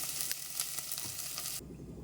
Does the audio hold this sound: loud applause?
no